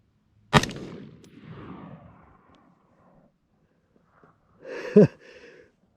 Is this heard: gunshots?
yes